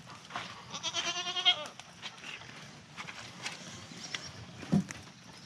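A goat stuck in a feeder on a drizzly farm gives a wavering bleat early on, then goes quiet amid faint rustling and a brief knock; a person speaks softly nearby.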